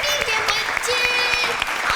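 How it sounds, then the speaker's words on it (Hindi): Studio audience applause on a quiz show, with a steady wash of clapping that holds at an even level throughout. "आइए, तालियां ज़ियान के लिए।"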